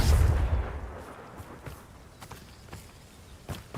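Confringo blasting-curse explosions in the Hogwarts Legacy video game: one heavy, booming blast hits at the start and fades into a rumbling tail, with scattered faint thuds after it.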